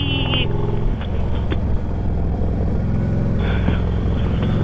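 A car engine hums at high revs while the car is driven in one gear, a loud, steady drone with road rumble and a brief rise in pitch near the end.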